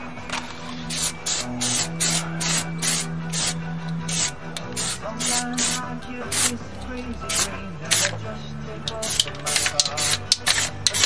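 An aerosol can of truck bed liner sprays a light coat on trim, hissing in rapid short bursts, with a rough rubbing texture throughout and a steady low hum underneath.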